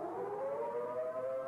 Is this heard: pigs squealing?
no